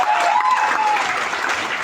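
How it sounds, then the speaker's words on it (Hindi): Audience applause fills the room, many hands clapping in a dense, loud wash that holds steady for a couple of seconds. "मैं देख रहा हूं बहुत सारे लोगों ने ताली।"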